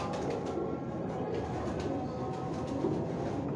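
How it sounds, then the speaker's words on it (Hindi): Teddy pigeons cooing on a rooftop, soft low coos over a steady outdoor background hum, with no voices. "ये भी हमारे टैडी कबूतर हैं"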